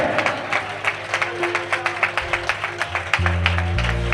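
A church congregation claps hands together in a quick, steady rhythm of sharp, close claps, then the clapping gives way to a sustained tone at the end.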